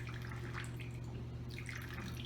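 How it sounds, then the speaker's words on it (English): White wine pours into a pan for a tortellini pasta salad, a steady close liquid trickle with light splashy detail and a low background hum. "And now we're going to go ahead and add in our white wine."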